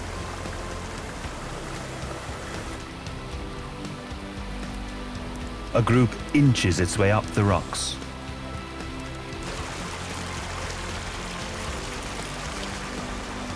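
Fast-flowing waterfall water rushes as a continuous broadband roar throughout, with someone narrating over it in the middle.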